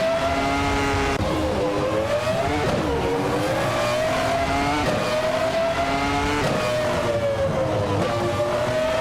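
Video-game F1 1996 race cars lap Laguna Seca, their loud, high-pitched engines revving hard through the whole stretch, with pitch rising and falling as they shift gears and brake into corners. Nobody talks.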